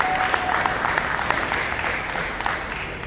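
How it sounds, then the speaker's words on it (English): Audience at an outdoor disc golf event, the Downtown Urban Open, clapping for the placing players, a dense, steady round of applause from a crowd. "Give it up for them."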